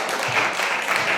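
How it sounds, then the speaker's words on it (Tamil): An audience at a church anniversary Bible quiz claps steadily in a dense, continuous burst of applause, loud and close, with no talking. "எல்லாரும் கை தட்டுங்களா ஜெபோரா டீமுக்காக."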